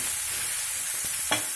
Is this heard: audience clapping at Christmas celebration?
no